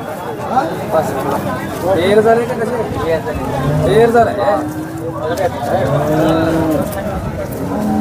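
Cows at the Sangola cattle market moo repeatedly in long, drawn-out calls, loud and close, with a crowd's voices and chatter mixed in around them.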